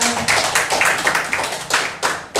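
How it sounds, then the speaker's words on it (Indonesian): A small group of participants at a teachers' dissemination session in a school hall claps in loose, uneven bursts, distinct individual claps standing out close and fairly loud rather than a smooth roar. "Tepuk tangan untuk kita semua."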